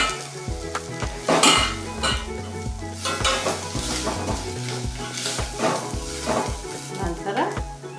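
Green chilies sizzle and fry in a pan with onions for Punjabi dal tadka. A spoon stirs and scrapes against the pan in a steady rhythm under the constant close crackle.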